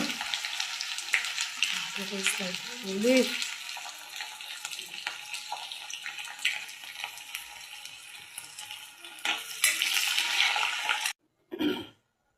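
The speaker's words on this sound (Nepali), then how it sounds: "अब यसमा चाहिँ म यही तेलमा लसुन अदुवा" Garlic and ginger sizzle and crackle in hot oil, a continuous frying hiss with occasional stirring and a brief low voice, ending abruptly.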